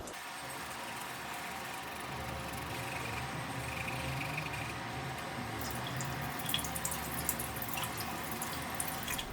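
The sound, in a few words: water running while wetting a makeup brush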